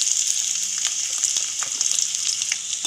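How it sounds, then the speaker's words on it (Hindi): Finely chopped onion fries in hot oil in a pan, giving a loud, continuous close sizzle with faint stirring clinks and no voice. "हमें प्याज को ज़्यादा डार्क फ्राई नहीं करना है, गोल्डन फ्राई करना है"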